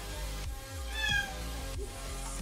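A pet cat meows once, a short, fairly quiet mew near the middle, heard over a steady low background hum in a room where hair is being styled.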